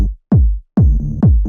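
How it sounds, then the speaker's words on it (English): A thumpy, fat kick drum for a UK house track hits three times, alone and loud, each with a deep booming body that decays quickly. "Really thumpy fat kick."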